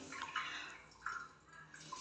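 Hotel shower water running from the shower head, a soft steady hiss with faint splashing, close and quiet, no voices.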